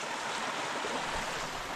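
Water rushing steadily in a remote creek where an old hollowed-out Huon Pine trough sits, a continuous broadband wash at close range with no voices.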